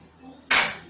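A plate taken from a stack of dishes in a kitchen, a single sharp ceramic clatter and clink, close and fairly loud, after a short quiet moment.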